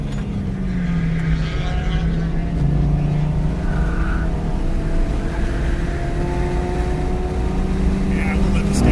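A race car engine drones and revs steadily from inside the car during a taxi ride on a racing circuit, with continuous loud engine noise and shifting pitch as a voice talks over it.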